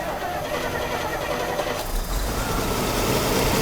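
A 1987 Bentley Continental Drophead engine starts and settles into a smooth, steady idle, heard close with a low rumble that grows fuller after it catches.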